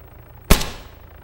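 A single sharp gunshot in the video game Arma 3, a sudden loud crack that decays quickly over a quiet background.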